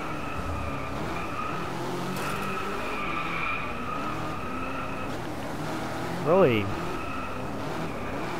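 A Peugeot Onyx race car in the DRIVECLUB racing game holds a steady engine drone with a brief rising tire squeal near the end, while a voice talks over it.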